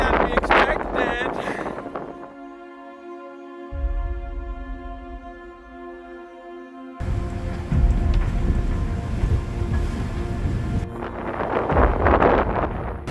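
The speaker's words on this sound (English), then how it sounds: "It has become more windy than we expected." Gusty wind buffets the microphone aboard a sailboat out at sea, with loud rushing bursts at the start and end, and a steady tonal hum in the middle stretch.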